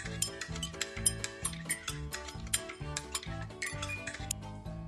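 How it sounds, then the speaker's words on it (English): A spoon stirs a drink with lemon slices and ice cubes, giving a steady run of close, bright clinks and scrapes against the glass, repeated rhythmically throughout with no talking. "And 1 more stir."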